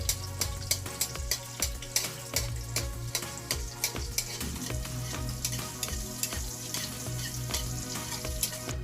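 An egg frying in a home kitchen pan while a silog meal is cooked: a steady, close sizzle with crackling pops and a few sharp clicks of a utensil, no voices.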